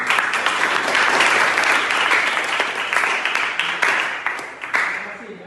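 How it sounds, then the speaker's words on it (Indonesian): An audience in a classroom applauds with dense, steady clapping that thins out slightly toward the end, close and fairly loud. "Kita beri aplaus terlebih dahulu."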